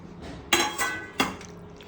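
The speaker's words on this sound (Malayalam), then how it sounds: "ഇനി നമുക്ക് ഇളക്കാം." A spoon clatters against a pan while stirring a meatless chicken-style masala curry, giving three sharp metallic knocks over a quiet background, close and fairly loud.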